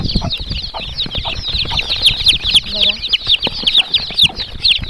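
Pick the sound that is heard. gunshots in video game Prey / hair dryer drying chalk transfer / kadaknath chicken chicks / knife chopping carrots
kadaknath chicken chicks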